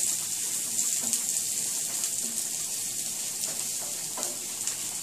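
Minced garlic sizzles steadily in a Salad Master skillet, a continuous close frying hiss with faint stirring scrapes and no talking.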